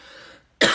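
A single sharp cough from a former cigarette smoker bursts out loudly after a brief quiet, close to the microphone.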